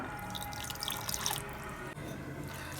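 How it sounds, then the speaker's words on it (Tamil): Water poured from a cup into a bowl of semolina and sour curd batter for bun dosa, a trickling, dripping splash near the microphone that swells briefly and then settles, with no talking. "ஒரு 1/2 கப் தண்ணி ஊற்றிக்கலாம்."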